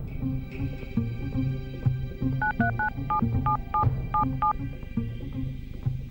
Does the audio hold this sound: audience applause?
no